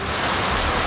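Heavy monsoon rain falls in Kanpur, a dense, even roar of drops hitting surfaces that runs steadily and loudly throughout, with no voices.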